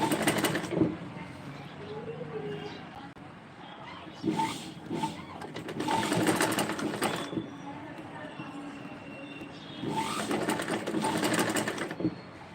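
A sewing machine stitches a dress in several intermittent runs of rapid mechanical whirring, with quieter handling sounds between the bursts and faint talk in the background.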